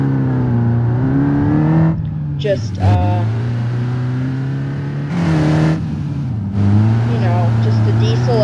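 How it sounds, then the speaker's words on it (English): Cherrier Vivace with a larger 4-cylinder diesel engine in BeamNG.drive, loud close droning engine note rising through revs, dropping at gear shifts and climbing again, with someone talking over it. "with a larger 4-cylinder diesel engine. So this one's actually diesel"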